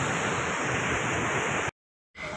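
Water pouring from a huge dam in Maharashtra, a loud, dense, continuous roar that cuts out abruptly for a moment before resuming.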